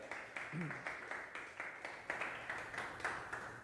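Church congregation clapping together in a steady rhythmic beat, about three claps per second, moderately distant and faint, with a voice speaking over the applause.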